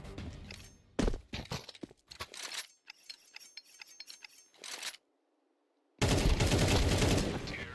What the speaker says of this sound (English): A brutal firefight where both players were bleeding out, but he comes out on top to maintain this run